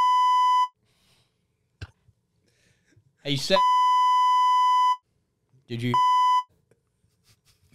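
Three sustained electronic beep tones, each lasting about a second, cut across short bursts of conversation; the second and third beeps overlap speech.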